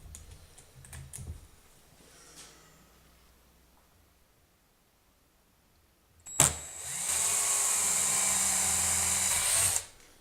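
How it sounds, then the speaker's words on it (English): A power drill bores a 1/8 inch pilot hole into an end cap: after some clicks and handling noises, the drill whines up sharply and runs steadily for about three seconds, loud and close, before stopping, with no talking. "next thing I'm going to do is drill a pilot hole in one of these end caps"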